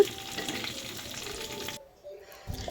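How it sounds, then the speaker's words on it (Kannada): Curry leaves sputter and crackle in hot oil for a raw papaya sambar tempering, a busy close sizzle that cuts off abruptly, then briefly returns. "ಸ್ವಲ್ಪ ಕರ್ಬೇವಿನ ಸೊಪ್ಪು ಹಾಕೊತಾ ಇದ್ದೀನಿ ಈಗ ಅದು ಕೂಡ ಸಿಡಿತೈತೆ ಚಿಟಪಟ ಅಂತ"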